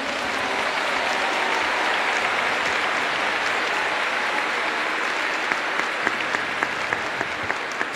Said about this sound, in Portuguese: Pode aplaudir a palavra.